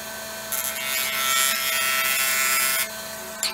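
A lathe spins at 2000 RPM, cutting a resin shifter knob cast around an ammo casing. A steady, loud scraping hiss runs for most of the stretch, then cuts off near the end, with no talk.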